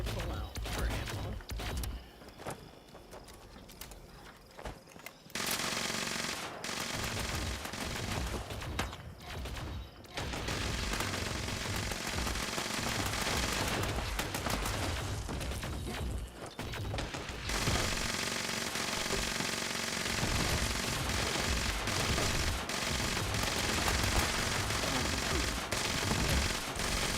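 Rapid automatic fire from a laser rifle in the game Fallout 76, long sustained bursts of shots broken by a brief lull, loud and close, with a voice talking over parts of it.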